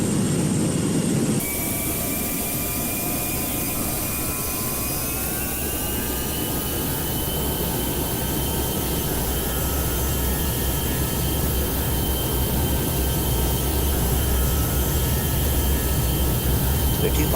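A simulated Airbus A320neo in a flight simulator game spools its jet engines up for takeoff, producing a steady, loud whine that rises in pitch and holds as a continuous roar.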